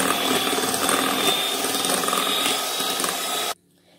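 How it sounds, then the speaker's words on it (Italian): Electric whisks whir loud and close, steady and buzzy as they beat a ricotta batter for a soft apple cake, then cut off abruptly, leaving near silence. "Lavoro il tutto con le fruste elettriche."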